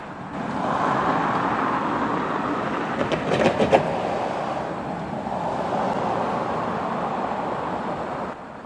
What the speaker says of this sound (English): the engineer pulled the train forward so the conductor didn't have to walk to the back of the train